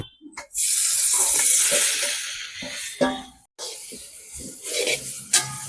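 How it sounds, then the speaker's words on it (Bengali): Boiled lentils pour into a hot wok with a loud, steady sizzling rush, then fade into softer bubbling and a few utensil knocks. "ওই সিদ্ধ ডালটা কড়াইতে দিয়ে দেবো"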